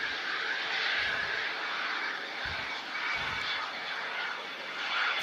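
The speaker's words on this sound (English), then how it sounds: "Had a nice Cessna just crossed over the active departure runway in front of us here at the RVP." Cessna light aircraft crossing an active departure runway at an airport, a steady distant engine drone with a faint low rumble that swells slightly, no talking.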